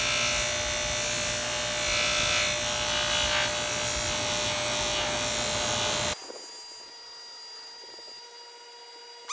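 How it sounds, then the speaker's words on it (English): A buffing wheel with rouge polishes a WW2 belt buckle, making a continuous close, high whirring rub that stops abruptly near the end, leaving a faint residual hum and no talk. "we got done with the buffing wheel"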